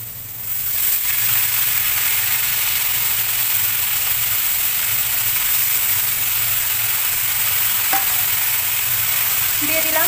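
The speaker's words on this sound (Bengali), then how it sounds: "দিয়ে দিলাম পালং শাক, এখন নেড়ে চেড়ে মিশিয়ে নিচ্ছি" Spinach sizzles loudly as it is stirred and fried in a pan, with a dense continuous hiss, a light scrape or two, and a steady low hum underneath.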